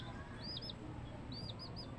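Young chicks give a few faint, high, rising cheeps in two short bursts over a low, steady background hum.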